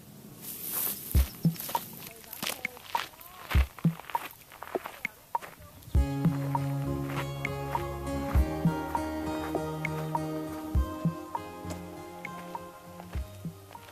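Footsteps crunch along a mountain trail on a hike up Smith Mountain, a few distinct, close steps at first, then a busier stretch of scuffing and rustling under a steady background din.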